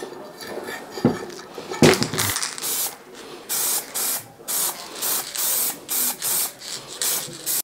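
An aerosol can hisses in a series of short, even bursts, about seven in a row, following some brief metallic clatter, while spraying an old Land Rover Defender second-row seat part.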